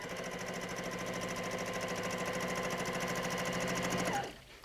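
Sewing machine stitching quilting at a steady chosen speed, a close, rapid, even mechanical chatter that runs continuously for about four seconds before stopping abruptly.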